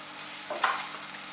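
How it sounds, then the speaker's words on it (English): Brinjal sizzles in oil in a frying pan, a soft continuous hiss with a brief stir or scrape in the middle, faint and steady. "While our bangan or brinjal is frying on the frying pan"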